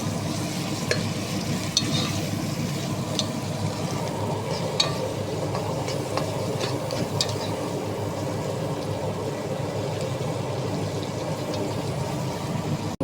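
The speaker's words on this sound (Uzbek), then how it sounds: "Pripralar solib, yana aralashtirib suv solamiz." Vegetables frying with spices in a pan for a mung bean and rice kichiri are stirred steadily, a dense continuous sizzle with scraping strokes close by, no talking.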